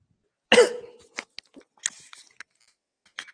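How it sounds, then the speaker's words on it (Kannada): One sharp, close cough followed by a few small throat-clearing sounds and faint clicks in an otherwise quiet room. "ಕೆಮ್ಮು"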